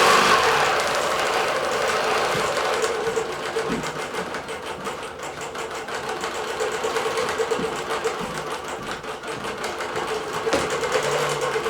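A Bernina Q24 computerized quilting machine stitching with Aurifil 50 white thread and an 80 needle, giving a loud, steady mechanical whir with a fast rhythmic needle chatter and a few faint clicks, running alone without speech.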